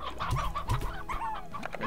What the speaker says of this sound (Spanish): Gallina pétrea, rogallo.